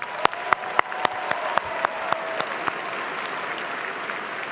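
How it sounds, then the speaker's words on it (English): A commencement crowd at Ohio University applauds the event staff. A soft wash of clapping runs underneath, with several sharp, close claps standing out in a steady rhythm early on before easing off. "A big round of applause to them"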